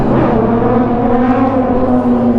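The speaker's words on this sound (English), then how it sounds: "Oh my God, there's a bike over there." Yamaha MT-10 motorcycle engine in a video game, a loud steady close drone with a strong low hum and layered harmonics, holding at an even pitch throughout without talk.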